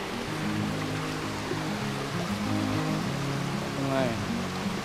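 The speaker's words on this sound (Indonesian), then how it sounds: "Sungai." Steady broadband rushing of a river flowing near a highland camping ground in Indonesia, constant and fairly loud, with faint talk underneath.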